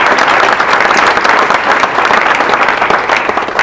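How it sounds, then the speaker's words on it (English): A breakfast event crowd gives loud, dense applause for Brent Willett, with a continuous roar of many hands clapping close and full throughout and no talking over it. "let's give Brent a big round of applause for his work"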